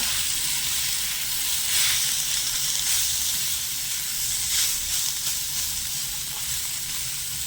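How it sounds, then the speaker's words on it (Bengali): Cauliflower frying with spices, amchur powder and Kashmiri chilli powder, in a pan gives a steady, close sizzle with bright hissing crackles that rise and fall slightly throughout, with no talk. "এবারে সব মশলাগুলো দিয়ে ফুলকপিটা একটু কষিয়ে নেব"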